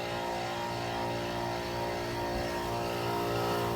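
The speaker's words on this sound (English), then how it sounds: "There's the fan motor." The fan motor of a loud Rheem Classic air conditioner runs in a steady, dense whir with a motor drone underneath. It is continuous and fairly loud, with no voices.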